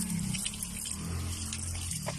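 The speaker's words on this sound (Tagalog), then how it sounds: "Ayan, lalagyan natin ng tubig" Steady rush of water from a hose running into a car engine part to clear carbon, continuous and close, with a low hum underneath.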